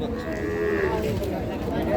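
A cow moos at a busy cattle market where desi and Sahiwal cows are sold with calves. The low lowing sits within steady crowd noise and other livestock sounds, and people talk nearby.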